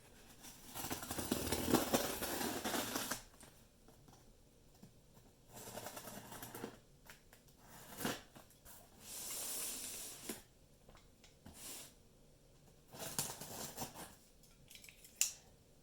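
A parcel from Amazon holding a limited-edition Blu-ray box set is torn and cut open, with bursts of ripping, scraping and hissing tape noises separated by quieter pauses, close and without talk.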